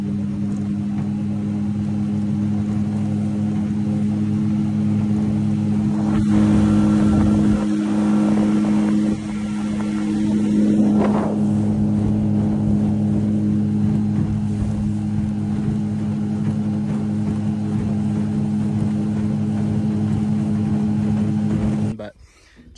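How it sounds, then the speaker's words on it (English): A 15-horsepower Mercury outboard motor on a jon boat runs steadily with a constant droning hum, briefly rising in pitch midway, then cuts off at the end. "we got a 15-horse Merc sitting off the back. I'll overlay some footage here of that thing running."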